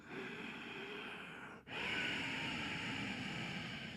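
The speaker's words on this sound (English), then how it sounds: "Ujjayi breath is when we take the throat muscles and we constrict them." Ujjayi breathing through a constricted throat makes a close, hissing, ocean-like rush, with a long airy exhale that breaks off briefly before a sharper, louder inhale continues.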